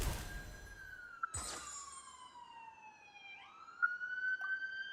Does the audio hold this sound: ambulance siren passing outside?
yes